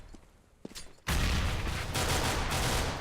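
Desert Eagle gunfire in a competitive Counter-Strike match: a couple of sharp, quieter shots, then a sudden loud, dense burst of gunfire that carries on to the end.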